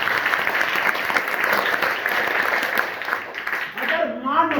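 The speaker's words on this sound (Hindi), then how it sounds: "एक मां के लिए जोरदार ताली बजाए।" A school audience at a secondary school event in Kerakat, Jaunpur, claps loudly in a dense, sustained wave of applause lasting the whole stretch, with a voice rising near the end.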